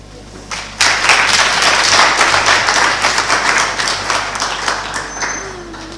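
A lecture hall audience at a public talk on the South African Reserve Bank bursts into sustained applause, dense steady clapping that tapers off slightly toward the end.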